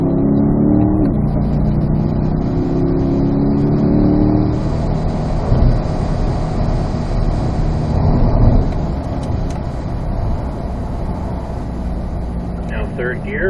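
A C8 Corvette pulls hard in third gear on a race track, its engine a loud, sustained roar heard from inside the car, with a rising drone and steady road and wind noise throughout.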